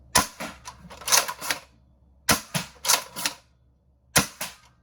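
A 3D-printed Nerf Excalibur blaster fires foam darts in quick clusters of sharp, snappy shots separated by short pauses. The shots are close and fairly loud, with no talking.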